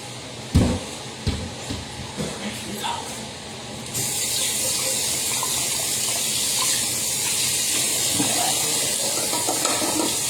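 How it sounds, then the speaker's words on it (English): Water gushes into an ordinary kitchen pot meant for boiling corn, starting after a few clatters and knocks and running as a steady, close hiss of pouring for the rest of the clip. "Alright, let me put my water in."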